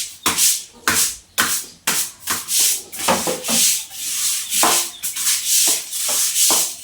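Rhythmic, close scraping strokes from a small hand scraper rasp over a surface in quick repeated passes, each a dry, gritty swipe with short pauses between, and no talking.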